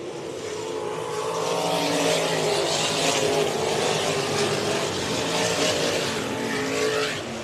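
Dirt track race cars roar past the grandstand at the Underwood feature race, a loud sustained engine drone that swells and sweeps by with overlapping cars, heard without talking.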